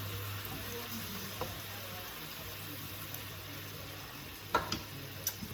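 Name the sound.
chicken gently poaching in simmering broth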